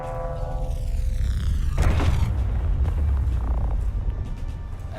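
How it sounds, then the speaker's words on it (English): Rail guns on a spaceship fire in a video game, a deep booming blast with a rumbling low-end swell and a sharp burst near the middle, trailing into a sustained mechanical drone with rising whine tones. "So one more time, let's fire this absolute monster of a weapon"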